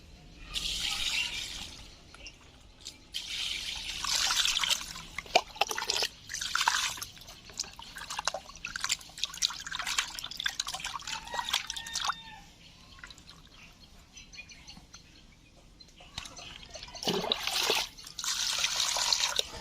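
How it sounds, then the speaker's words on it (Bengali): Cut pieces of fresh river boal fish are washed in water, giving intermittent splashing, dripping and trickling in quiet bursts with pauses between, close by and without speech. "বল মাছটা কেটে নিয়েছি, তো ভালো করে ধুয়ে নেব এখন।"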